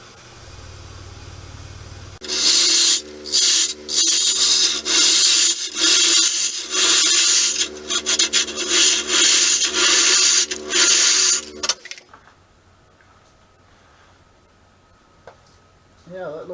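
A lathe gouge hollows out a log birdhouse, a loud rough scraping and rubbing that pulses in repeated strokes over the spinning wood, then drops off to a quiet motor hum.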